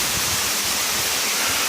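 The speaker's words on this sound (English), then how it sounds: "waterfall." A waterfall at a littered natural spot, heard as a loud, steady broadband rush of falling water that fills the whole moment without pause.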